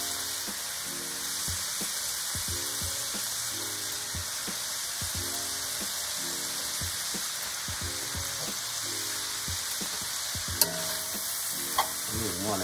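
Collard greens fry in a skillet with a steady, close sizzle and crackle, while a few sharp utensil clicks and scrapes come near the end.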